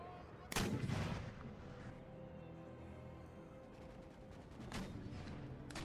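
Artillery fire in the Empire Total War video game, a sharp loud cannon boom followed by rumbling echoes, with distant scattered musket and cannon shots later under a faint steady battle ambience.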